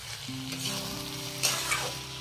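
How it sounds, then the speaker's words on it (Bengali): Dried-fish chochchori with cauliflower, potato and vegetable stems frying in a pan, giving a steady close sizzle and crackle with a few louder spits near the end and no talking. "অল্প ঢাকা অল্প দেরি এটারে কষায়া তারপরে রেডি হয়ে যাব আমাদের শুটকি দিয়া ফুলকপি আলু ডাটা চচ্চড়ি"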